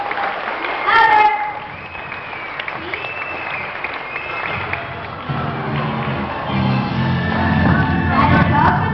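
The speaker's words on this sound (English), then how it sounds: "So folks, let's pull Simba. Come on, clap your hands." Audience at an Ocean Adventure sea lion show clapping to cheer on Simba, a steady crowd applause that swells louder toward the end, with a few shouts and voices over it.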